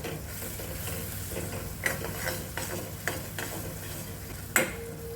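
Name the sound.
gram flour roasting in oil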